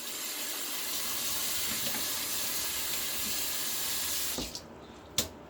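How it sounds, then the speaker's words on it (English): Tap water runs steadily into a sink as a paintbrush is rinsed under it, a continuous hiss that cuts off near the end, followed by a couple of small knocks. "bring the brush to the sink, work it through"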